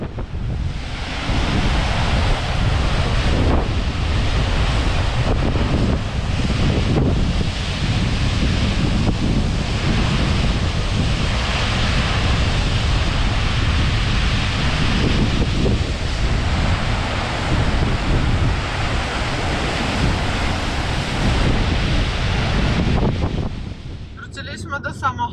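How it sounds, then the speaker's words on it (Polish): Waterfall in a canyon near Vopnafjörður, Iceland, a loud continuous roar of rushing water mixed with heavy cold wind buffeting the microphone, steady throughout before easing off near the end. "O, piękny wodospad jest."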